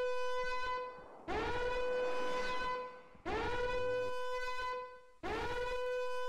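In the shooter game Rifle Strike, a siren blares in three long tonal blasts, each starting sharply and holding a rich harmonic wail before breaking off.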